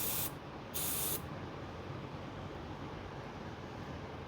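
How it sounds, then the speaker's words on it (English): Two short hissing blasts of brake cleaner sprayed onto debris cleaned out of a VW Beetle turbo EFI fuel system, close and sharp, followed by a quiet steady hiss. "Some of this brake clean."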